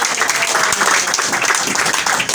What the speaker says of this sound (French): Applaudissez à toi.